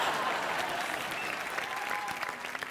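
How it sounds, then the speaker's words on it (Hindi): Audience at a televised comedy roast show applauding, a steady wash of many hands clapping that holds at an even level throughout, with no voices standing out. "तालियां"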